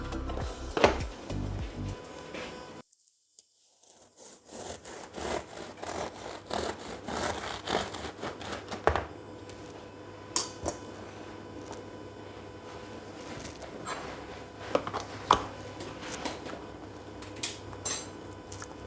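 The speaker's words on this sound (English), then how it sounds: "I'm going to slice the end of it and have it with some butter." A knife saws through the crust at the end of a homemade sourdough loaf, rasping, crackly cutting strokes close up, with a brief silent pause and then more scraping and crumbly rubbing sounds.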